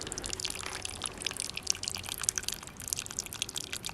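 A thin, slow mountain spring in the Carpathians trickles and drips continuously, close by and fairly quiet, with a steady bubbling patter and no voices.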